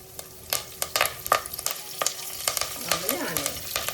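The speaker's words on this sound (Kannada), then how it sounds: "ಸಾಸಿವೆ, ಕರಿ ಲೀವ್ಸ್ ಹಾಕ್ತಾ ಇದ್ದಾರೆ" Mustard seeds and curry leaves frying in hot oil, crackling close up with a quick series of sharp pops and spits over a low sizzle, bursts growing denser toward the end.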